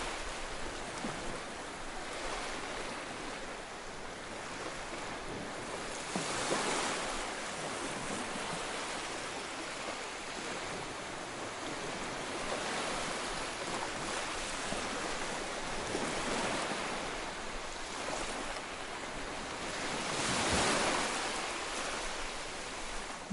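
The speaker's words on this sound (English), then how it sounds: "the calming sounds of the ocean" Steady broadband wash of surf rolling in, with waves swelling and breaking periodically, louder around the later surges; no voices.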